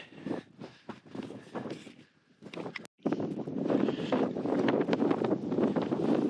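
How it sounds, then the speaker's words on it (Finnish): Wind gusts buffet the microphone in uneven bursts on a fell hike between Hetta and Pallas, then settle into a continuous, heavy rumbling roar. "Tuuli vähän viilentää"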